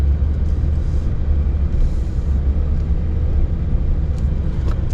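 Steady low rumble of a car driving on Mount Desert Island before Tropical Storm Elsa, heard from inside, a constant engine and road drone with no talking.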